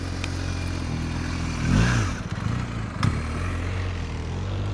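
Motorcycle engine idling at a low, steady throttle during slow-speed riding practice in Tennessee, a continuous low drone with a brief swell near the middle and a sharp knock shortly after.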